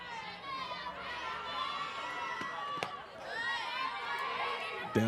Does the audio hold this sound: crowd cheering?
yes